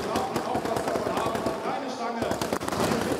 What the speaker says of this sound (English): the fireworks erupt in celebration at the 2016 Championship